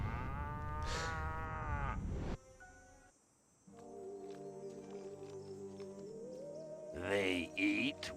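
Cattle lowing in the video game Destroy All Humans: a deep, drawn-out moo opens loudly, then quieter game ambience and sustained tones follow, with a brief bright burst near the end.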